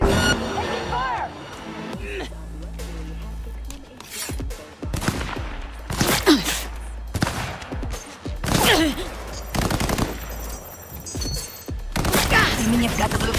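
Bursts of gunfire in the video game Cyberpunk 2077, rapid volleys of shots crackling in clusters across the span, mixed with voices and game effects underneath.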